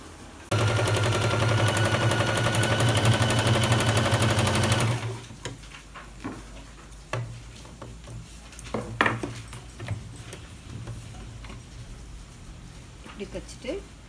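A sewing machine stitches a salwar patiala pant with a loud, steady mechanical rattle for about five seconds, then stops; softer handling noises and a voice speaking follow.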